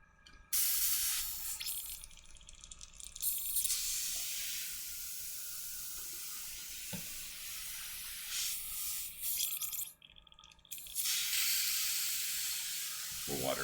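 Water hisses and sprays through a miniature painter's cleaning setup as brushes are rinsed at a workbench. A steady, close, loud spray has brief breaks around four and ten seconds.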